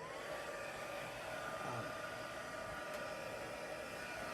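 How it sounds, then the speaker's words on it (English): A heat tool resembling a wallpaper-stripping heat gun or hair dryer runs with a steady, even whooshing blower hiss, constant and fairly quiet throughout with no talking. "This is a heat tool. It looks like a heat gun for removing wallpaper or a hair dryer"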